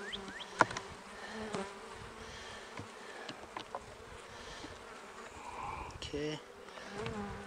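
Honey bees buzzing around an opened hive during an early-season inspection, a steady close drone of many wings with passing individual bees, while a person speaks briefly.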